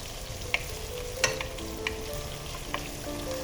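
Red chilies roast and sizzle in a pan alongside garlic and tomato, a steady crackling fry with a few sharp pops and stirring clinks, close and without talk.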